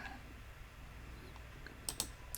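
Computer keyboard shortcut keystrokes and mouse clicks while editing text, a few sharp, close clicks near the end over a quiet room hum.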